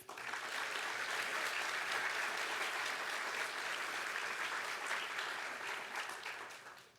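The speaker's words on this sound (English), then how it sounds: "So just another round of applause, please." A crowd applauds dense, sustained and loud for transfer scholars at a transfer achievement celebration, then tapers off near the end.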